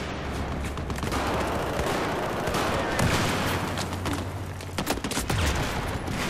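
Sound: machine gun fire in video game Battlefield 4

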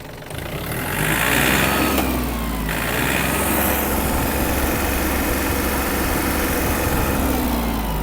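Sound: small tractor engine revving

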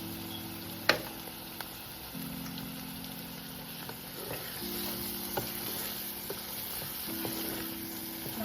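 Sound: spices and prawns being sautéed in a pan for prawn biryani

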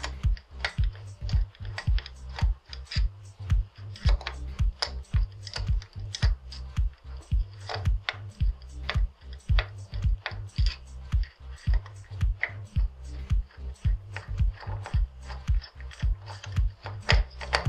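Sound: screwdriver loosening mounting screws on electronics module

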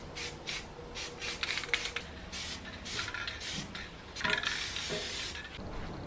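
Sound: scraping burnt paint off a ballast box

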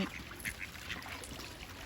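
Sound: ducks quacking while scrambling to eat bread

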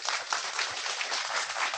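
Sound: audience applause welcoming the director

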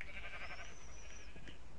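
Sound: sheep bleating in the video game Minecraft

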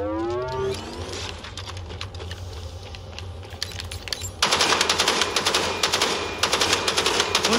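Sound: sniper rifle gunshots in a video game

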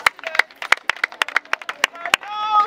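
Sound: audience clapping for a speaker

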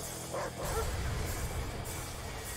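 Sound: dogs barking in the video game Command & Conquer Red Alert 3

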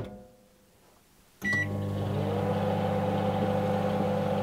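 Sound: microwave oven heating a mixture for 30 seconds

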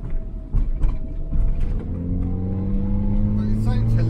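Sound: Zastava Yugo 55A car engine while driving

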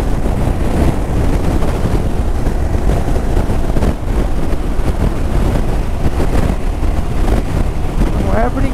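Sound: strong wind blowing near Sabancaya volcano

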